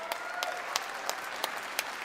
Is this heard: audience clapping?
yes